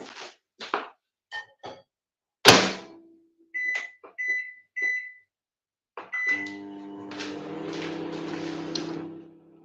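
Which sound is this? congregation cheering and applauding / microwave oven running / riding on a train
microwave oven running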